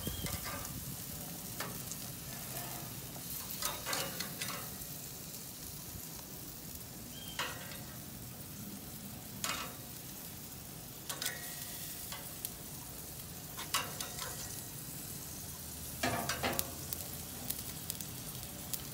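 Mushrooms sizzle on a Hestan grill, a steady frying crackle with occasional scraping stirs and light taps of a utensil, heard close with no talk.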